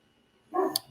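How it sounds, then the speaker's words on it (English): A single short dog bark, sharp and moderately close, rising out of a quiet room background. "I think you can hear my dog barking"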